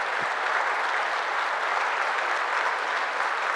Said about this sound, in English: If we could please give a round of applause for Peter Metzeler.